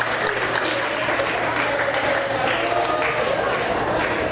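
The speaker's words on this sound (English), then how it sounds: "So give the squares a round of applause." Audience at a live mental health community event gives a round of applause, a dense, even wash of clapping that holds steady for several seconds with a low hum underneath.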